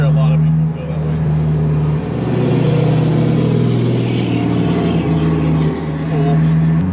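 A car engine at a local car meet runs loud and close with a steady, deep drone that swells slightly as if revved, with faint background chatter mixed in.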